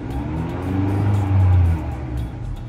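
A 2019 Honda Accord's engine is revved up, the low rumble climbing and swelling to a peak mid-way before easing back down, close and loud.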